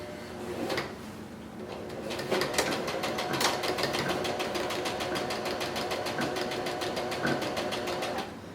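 A sewing machine runs a continuous stitching burst along a fabric mask seam with a 3/4 inch allowance, its rapid regular needle clatter loud and close, starting after a brief pause and holding steady almost to the end.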